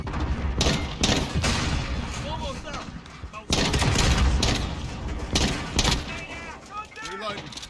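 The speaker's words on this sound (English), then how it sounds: "Big explosion up and over center." Gunfire and explosions in a Call of Duty match, a loud burst of booms and rapid shots with debris crackle, while a commentator talks over the action.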